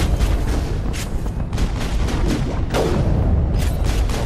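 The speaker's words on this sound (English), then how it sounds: "Come on, you goddamn stupid ass sniper rifle." Sniper rifle shots in Mass Effect, a string of dense booming reports, loud and close, layered over constant rumbling combat noise with no pauses.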